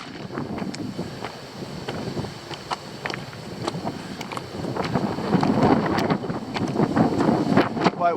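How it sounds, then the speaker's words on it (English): Strong gusty wind on a hilltop at Peveril Castle buffets the microphone in rough, roaring bursts that grow louder toward the end, with no voices. "Quite windy today."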